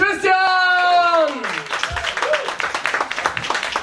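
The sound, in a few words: comedy show audience applause for the host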